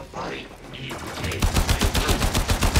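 Primary weapon firing in the sci-fi shooter Warframe, a rapid burst of repeated shots building after a short quieter start, loud and close, with game sounds around it.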